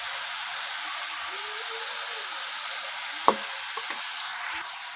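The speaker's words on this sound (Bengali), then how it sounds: "লঙ্কার গুঁড়োটা দিয়ে খুব ভালোভাবে কিন্তু মশলাটাকে কষিয়ে নেব।" Spice paste with turmeric and chili powder fries in a pan for a mustard pabda fish curry, a soft continuous sizzle with a single sharp clink of a spoon partway through, no speech.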